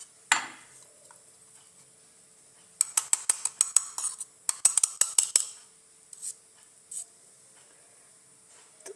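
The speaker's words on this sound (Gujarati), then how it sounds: "ત્યાર પછી આ તવી રાખી દઈશું ઉપર." A griddle (tava) set down on a gas stove, heard as one metallic clank followed by a quick run of sharp clattering knocks, then a few scattered taps in an otherwise quiet kitchen.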